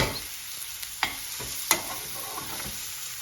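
Green pepper and spices frying in a pan for a chicken tikka balti, a steady close sizzle broken by a few sharp scraping stirs.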